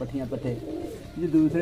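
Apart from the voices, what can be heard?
pigeons cooing in the loft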